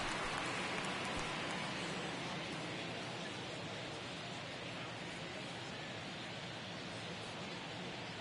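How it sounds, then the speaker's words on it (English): Rain falling steadily during a Cubs at Reds baseball game, a dense even hiss of drops that holds at an unchanging level throughout with no voices. "It feels like we might be headed towards a rain delay if the weather doesn't ease up, Chris."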